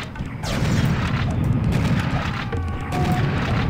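Grenade launcher blasts in the PC game Serious Sam: The Second Encounter, a dense barrage of loud booming explosions and gunfire with heavy low rumble, continuous and close.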